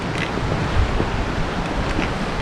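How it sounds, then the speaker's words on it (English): Ocean surf rolling onto a beach in Cahuita National Park, Costa Rica, a steady broadband wash with wind noise buffeting the microphone, no talking. "You can hear the beach, the waves."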